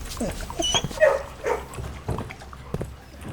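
Dogs in the kennel of the video game Blue Prince give a run of short, close barks, yips and whimpers, scattered unevenly across the moment amid other game sounds.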